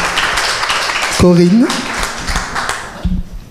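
Audience applause at a panel discussion, clapping throughout with a single voice briefly speaking over it partway through.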